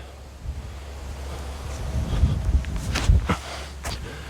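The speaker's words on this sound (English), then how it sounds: "the wind's strong enough, pushing right to left" Strong wind gusts across an open disc golf course, a steady low rumble buffeting the microphone that swells and roughens toward the middle, with faint rustles but no talking.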